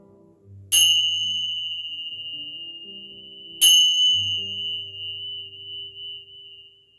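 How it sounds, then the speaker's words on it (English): Two bright metallic bell or singing-bowl strikes during a chair yoga meditation, each ringing out in a long, slowly fading sustained tone, clear and alone against soft low background hum. "Let your mind, your body, and your soul absorb the vibrations of the bells"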